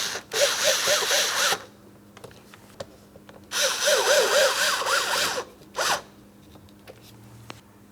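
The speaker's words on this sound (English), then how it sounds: "As you tighten each one of these screws, just keep in mind you are only screwing into plastic." A power driver runs screws into a plastic master window switch panel of a 2011-2026 Mitsubishi Outlander, two longer whirring bursts and a brief third one, close and fairly loud with quiet gaps between.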